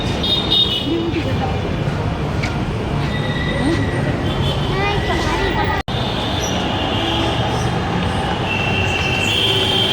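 A metro train at Mirpur 11 station rumbles steadily with metallic wheel squeals, heard close and loud throughout, with a murmur of voices in the background.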